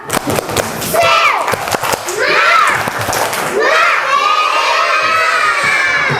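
A class of schoolchildren at an elementary school raise their voices together in a loud, shouting spirit chant, their excited cries and rhythmic claps rolling on for several seconds as a lively crowd.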